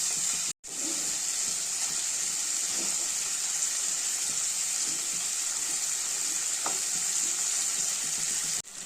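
Spiced masala with garam masala fries loudly in a pan as crumbled potatoes go in, a dense, continuous sizzle with faint stirring clicks, briefly cutting out twice.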